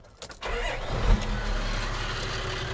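A Toyota Land Cruiser HDJ79 diesel engine with a stainless steel exhaust rumbles low and steady after a quick start, revving slightly around the one-second mark, then settling into a muted, fairly quiet idle.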